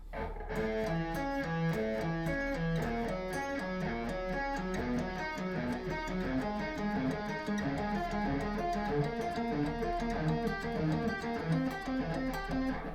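Electric guitar plays a steady flow of hybrid-picked triads, continuous and even, with a slightly driven tone and no talking.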